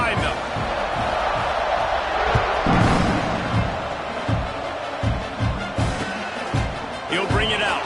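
Stadium crowd noise from a college football video game, a broad steady roar swelling before a kickoff, heard beneath continuous play-by-play commentary.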